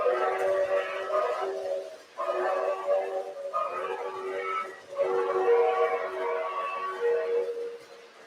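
Model train horn on a toy railroad layout with a TMCC control system, sounding a sustained multi-tone blare in three long blasts with brief breaks, moderately loud and alone.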